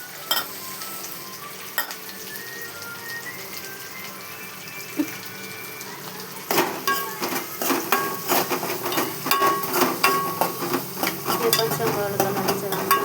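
Masala paste frying in oil in a pan, a moderate sizzle that grows livelier partway through as rhythmic stirring strokes and scraping clacks take over.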